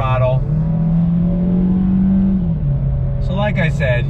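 A 2020 Chevrolet Sonic RS hatchback accelerates on throttle through a left turn, its engine droning steadily and rising in pitch from inside the cabin, with someone talking briefly at the start and end.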